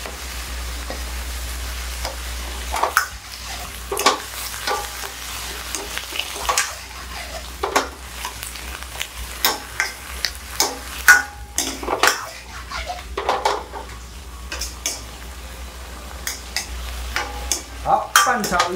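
Mustard greens stir-fried in a wok, with close, continuous sizzling and frequent clattering scrapes of a spatula against the pan, irregular bursts of stirring throughout, no talking.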